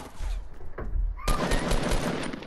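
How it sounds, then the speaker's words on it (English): Fortnite gunfire from an enemy shooting from above, a loud, dense run of close shots and bursts over rumbling game noise, getting sharper and heavier partway through. "Oh, he's shooting up from above."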